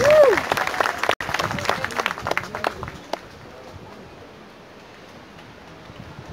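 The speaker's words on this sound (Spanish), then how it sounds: "para el profesor Roberto Pérez, vamos a darle un aplauso" A crowd at a community gathering in the Ngäbe-Buglé comarca applauds a teacher, a thick burst of clapping for about three seconds that then fades to quiet room noise.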